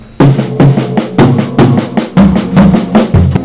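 A drum kit fill played around the toms and snare, with accented right-hand strokes on the high drums, a low left-hand pattern and two bass drum hits closing it out, loud and close in repeated rhythmic bursts, no talk.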